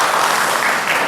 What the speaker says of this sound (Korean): 우리 학생들을 좀 축하하면서 박수 좀 부탁드리겠습니다